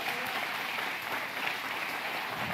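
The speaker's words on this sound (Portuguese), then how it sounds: "Diga, aplauda ao Senhor Jesus." Worshippers in a church service clap for the Lord Jesus, a continuous, evenly sustained roar of applause from the whole congregation with no voices rising above it.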